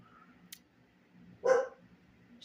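A pet puppy lets out a single short, sharp bark at close range, surrounded by quiet room tone, with a faint click shortly before it.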